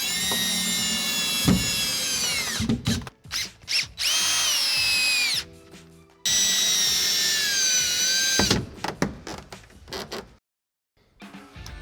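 A cordless power drill drives screws into shower wall panels, with loud, close bursts of rising and falling motor whine broken by brief pauses and a short gap near the end.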